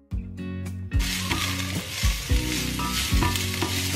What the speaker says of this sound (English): So let's cook until it becomes translucent guys, the onion